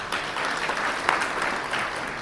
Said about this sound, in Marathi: आणि याच्यावरही आपण टाळ्या वाजवतो